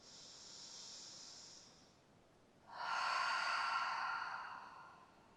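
During a yoga session, one person takes a slow, deep breath in, pauses briefly, then lets out a longer, louder airy exhale, close and quiet with no talking.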